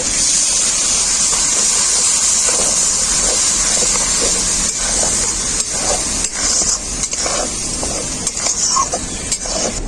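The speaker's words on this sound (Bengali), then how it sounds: "অল্প একটু জল দেব মশলাটাকে ভালো করে কষানোর জন্য" Ground coriander, dried chilli and black pepper powders sizzle and hiss loudly and steadily in a hot pan after a little water is added, with occasional scrapes of a spoon stirring close by.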